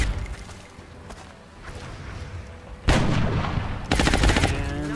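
Suppressing gunfire in the tactical video game XCOM Enemy Within, with soft scattered shots giving way to two loud, sustained bursts of heavy weapon fire close by, no voices.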